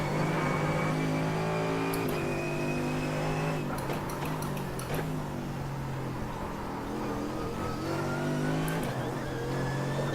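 A Mercedes race car engine in the iRacing video game at Sebring roars near and loud, revving up through the gears with brief drops at each upshift and steady high-pitched whine between.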